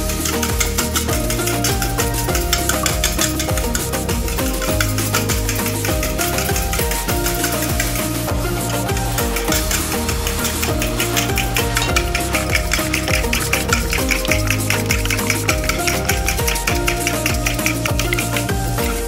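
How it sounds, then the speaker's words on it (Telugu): Egg yolk and white whisked together in a bowl, a dense, fast run of light clicking and tapping strokes that keeps up steadily and loudly throughout. "బాగా ఎల్లో వైట్ కలిసిపోయే వరకు కలుపుకోవాలండి."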